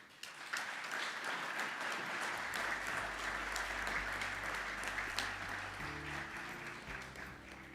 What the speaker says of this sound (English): I now ask you to show your acclamation with a round of applause.